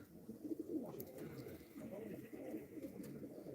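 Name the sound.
gökbenek pigeons cooing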